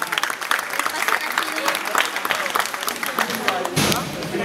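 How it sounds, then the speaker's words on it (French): An audience in a hall applauds a contestant at a neighbourhood dictation competition in Massy. The clapping is lively and uneven, with a voice speaking over it, and it thins out near the end. "On l'applaudit bien fort."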